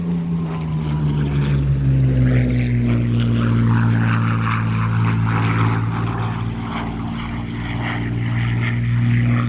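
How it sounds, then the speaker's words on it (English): A Messerschmitt Me109 fighter flies low over Headcorn airfield in Kent, its propeller engine a loud sustained roar with shifting pitch throughout, close and dominant with no voices. "So here is this Me109 beating up Headcorn, most unwelcome."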